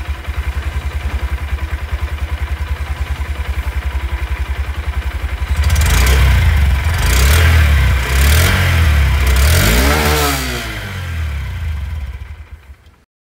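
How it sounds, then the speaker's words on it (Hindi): A 125cc motorcycle's exhaust idles with a rapid, even putter, then the engine is revved hard several times in loud, close bursts before settling and cutting off. "यहाँ पर भी मैं आप लोगों को जो एग्जॉस्ट साउंड है वो मैं आप लोगों को इस बाइक की सुना देता हूँ।"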